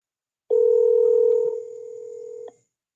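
A telephone tone is dialed to call a radio show listener. One loud, steady electronic tone holds for about two seconds, drops in level partway through, then cuts off sharply. It sounds alone, with no voices.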